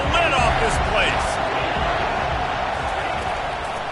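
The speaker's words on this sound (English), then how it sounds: "this crowd is tearing the lid off this place" Football stadium crowd at a college game roaring loudly and steadily throughout, a dense wall of cheering noise with no pauses.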